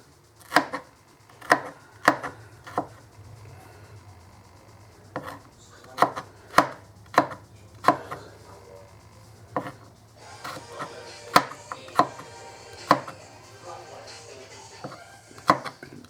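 A knife chops food for homemade pizza on a board in sharp, irregular strikes, about a dozen distinct cuts spaced a second or so apart, with faint background music.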